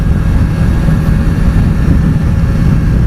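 Motorcycle engine running steadily and loudly on the road, with a constant low rumble through the whole stretch and no talk over it; the bike has a modified redneck-style exhaust.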